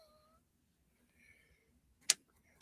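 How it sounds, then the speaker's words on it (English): A house cat lets out a single short, sharp cry near the end of an otherwise quiet stretch, loud and close against faint background tones. "now I'm getting tackled by my cat"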